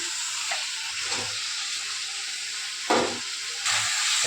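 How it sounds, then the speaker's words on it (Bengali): Sautéing fried potatoes and eggs with spices in a pan produces a steady, close frying sizzle, with occasional louder scrapes and bursts as the mixture is stirred, and no talk. "এখন মশলা দিয়ে আলু আর ডিমটাকে সুন্দরভাবে কিন্তু কষে নিচ্ছে"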